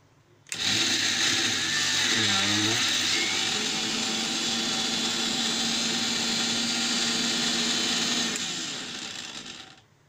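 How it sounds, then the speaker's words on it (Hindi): An electric mixer grinder whirring loudly as it grinds peanuts and coriander into chutney, starting abruptly, holding a steady high-pitched motor drone for several seconds, then winding down and stopping. "अब हम इन चीजों को फिर से ग्राइंड कर लेंगे अच्छी तरह।"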